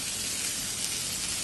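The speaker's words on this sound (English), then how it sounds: "as you can hear, we've got a nice sizzle." Steady, dense crackling sizzle of meat frying in a hot pan, continuous and close, with no talking.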